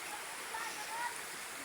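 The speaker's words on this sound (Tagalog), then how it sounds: "ang aming ilog na labahan dito sa tubahan" River water flows steadily at a village laundry spot in Barangay Libiste, a soft continuous rushing of the stream with faint background voices.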